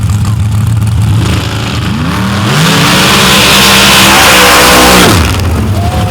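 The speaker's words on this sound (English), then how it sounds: "Havoc, 705 cubic inch Chevrolet in the front of that one against Jamie Suter in the big black Chevy." A loud 705 cubic inch Chevrolet drag racing engine revs and launches hard, its rising pitch sweeping upward through gear changes, then roaring at full throttle before dropping off.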